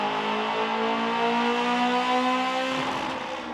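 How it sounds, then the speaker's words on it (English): A Honda S2000 on a dyno screams through a sustained high-rpm pull, the engine tone holding steady and loud before tapering slightly at the end, heard alone without talk. "There's an S2000 back there on the dyno right now"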